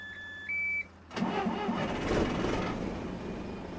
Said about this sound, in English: So let's get the bus started.